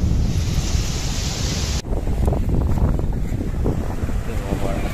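Surf and steady wind noise buffet the microphone on a calm beach, with a broad continuous wash of waves that briefly drops out before resuming, loud and close throughout.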